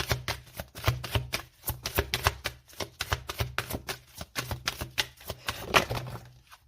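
A tarot deck being shuffled by hand, dense rapid riffling and snapping of cards in repeated bursts, close and fairly quiet with no talking.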